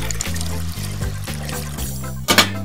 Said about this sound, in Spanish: Pon agua a hervir